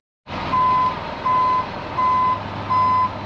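A dump truck pulling a short tri-axle trailer sounds its reversing alarm while backing up, four evenly spaced loud beeps over a steady engine idle.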